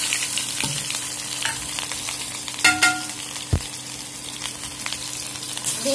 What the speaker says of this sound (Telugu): నూనె వేయడం అనగానే ఆవాలు చిక్కపక్కన అనిపించి